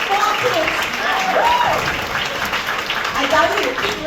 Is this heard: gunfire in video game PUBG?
no